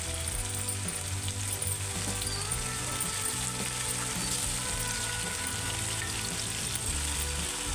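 Chopped tomatoes and green chillies fry in hot oil for a ridge gourd curry, giving a steady, loud sizzle that runs unbroken with faint stirring underneath.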